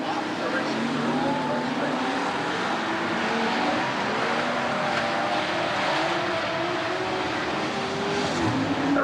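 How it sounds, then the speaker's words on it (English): Sportsman stock cars race around a county fair dirt track in Sheboygan County, 1991, a dense, loud, continuous roar of several engines blending together without pause. "The racing continues on the racing surface with Dave Laabs heading the field fast."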